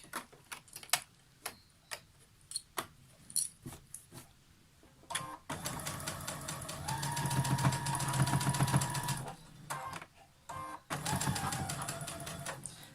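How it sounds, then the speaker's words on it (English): A sewing machine top-stitches a cloth face mask: scattered clicks and taps, then sustained mechanical runs of rapid needle chatter, a brief pause, and another short burst, close and fairly quiet. "we'll just top stitch the lower part of the mask down"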